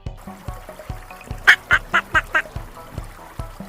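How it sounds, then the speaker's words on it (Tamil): Five clear duck quacks in a quick, evenly spaced run, close and prominent over a steady rhythmic children's music backing. "குவா குவா வாத்து"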